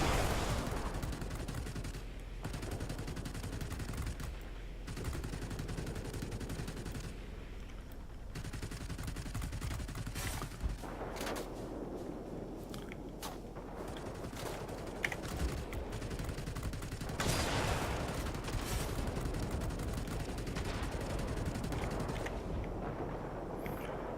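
Aircraft guns firing on the IL-40 in World of Warplanes, dense bursts of rattling fire over a constant engine roar, with pauses between bursts and a few sharper hits, no voices.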